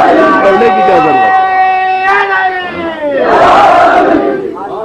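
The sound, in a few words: congregation chanting slogans of Mola Ali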